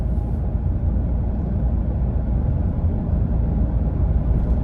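Cabin noise inside a moving Toyota Tacoma pickup with the sport bar removed, a steady low rumble of road and wind noise with no one speaking.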